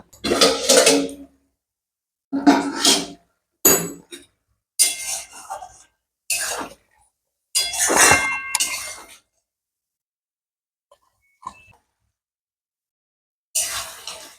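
A metal lid goes onto a cooking pot on a gas stove: a series of sharp clanks and clinks in separate bursts with quiet gaps between them, then one last clatter near the end.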